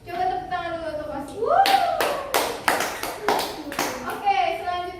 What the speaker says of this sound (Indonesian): Coba tepuk tangan dulu untuk Osi.